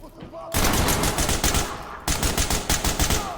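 Gunfire in the tactical shooter Ready or Not, loud rapid automatic bursts of sharp shots in quick rhythmic strings, close, with a brief pause midway before firing resumes.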